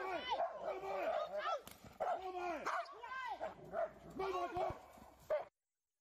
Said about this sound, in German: sie schlägt einfach auf den Hund ein mit irgendwas, mit einer Gerte oder so